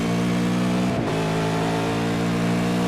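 A V8 race car engine at Belle Isle holds a loud, sustained drone at steady high revs, with a brief pitch shift midway, heard up close and continuous.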